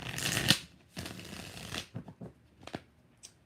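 A deck of tarot cards riffled and shuffled close up, a few quick bursts with brief pauses between them, no speech.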